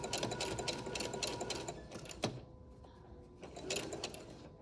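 A sewing machine stitches straight seams on a fabric face mask, a rapid mechanical chatter in close bursts that stops briefly with a single click, then starts up again.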